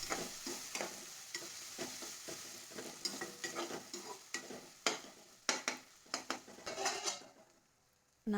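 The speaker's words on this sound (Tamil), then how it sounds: "கொஞ்சம் லைட்டாக ஃப்ளேம் கம்மியாக வச்சுக்கிட்டு வதக்கி விட்டுட்டு ஸ்டவ்" Paneer butter masala is stirred in a pan over a low flame, with soft sizzling under a run of spatula scrapes and clinks against the pan that grow sharper before falling quiet near the end.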